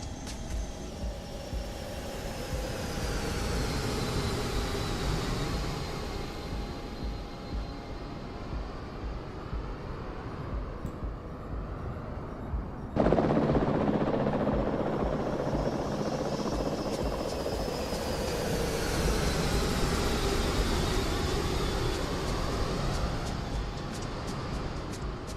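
A plane flies past the camera in a flight simulator game on a trip to the Fiji Islands, a steady engine drone with whining tones that sweep down in pitch as it passes, then build again.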